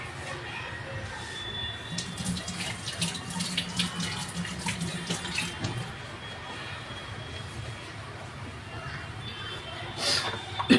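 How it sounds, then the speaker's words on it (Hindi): Tap water runs steadily into a kitchen sink during hand washing, a moderate continuous splashing hiss with faint background voices. "मैं हैंड वॉश कर लेती हूँ।"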